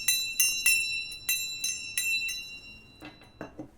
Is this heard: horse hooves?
no